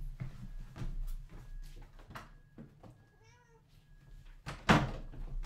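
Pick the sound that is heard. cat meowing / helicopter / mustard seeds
cat meowing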